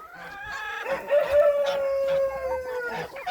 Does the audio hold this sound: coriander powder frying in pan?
no